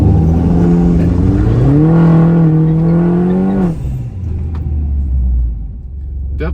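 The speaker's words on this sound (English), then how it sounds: "I am going to do a little bit just kind of practice launches just to see kind of where I can launch it before I actually time anything." A tuned Mini Cooper R56 revs hard for a practice launch on gravel, its loud engine note climbing and holding while the tires spin, then dropping to a lower rumble.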